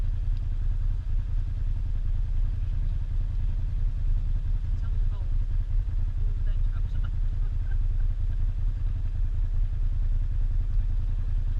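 A UTV stuck in deep mud drones with a loud, steady engine roar under throttle throughout, low and continuous with faint clatter above it.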